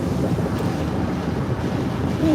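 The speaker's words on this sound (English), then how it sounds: "Ooh, it is windy." Strong wind from a tornado-warned storm in Alexandria, Louisiana roars steadily with heavy, gusty rumbling buffeting the microphone, continuous and loud with no speech.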